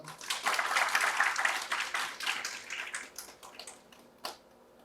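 Audience applause in a lecture hall greets a guest speaker at a pharmacy-themed special lecture, a dense wash of clapping that swells and then thins out over several seconds, ending with a few scattered claps.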